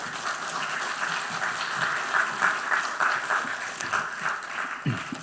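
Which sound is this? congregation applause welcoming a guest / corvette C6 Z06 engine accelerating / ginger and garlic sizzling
congregation applause welcoming a guest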